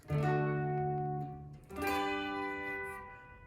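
Guitar chord from a song, strummed twice on guitar, each strum ringing and fading, heard alone and fairly soft.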